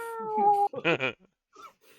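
A person imitates a cat's meow with a drawn-out, rising and falling cry, then short, voiced sounds and a faint murmur.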